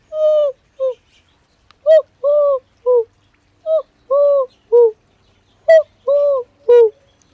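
A person imitates the cooing call of a Eurasian collared dove in a backyard, giving repeated clear two- and three-note coos in rhythmic phrases, loud and close with quiet gaps.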